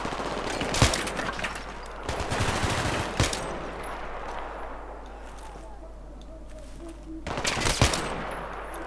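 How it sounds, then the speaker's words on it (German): Bursts of rapid gunfire in the video game Battlefield 3 crack out in loud clusters, with quieter stretches of ambient noise between volleys. "Das war mal ein sauberer Schuss"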